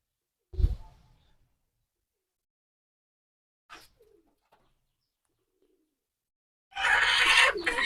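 Shirazi and fieldback pigeons, a female and a male, kept in a loft: a short low coo, then near silence with a faint flutter, ending in a burst of rustling noise.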